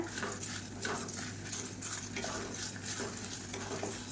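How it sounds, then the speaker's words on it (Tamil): Spices and fenugreek seeds are dry-roasting in a pan over a medium flame for idli sambar, giving a steady faint sizzle and rustle with a light stirring scrape, alone without talk. "மீடியமான ஃப்ளேமில் வறுத்துக்கலாம் இப்போ இந்த ஸ்டேஜில் ஒரு பத்து வெந்தயம் சேர்த்துக்கலாம்"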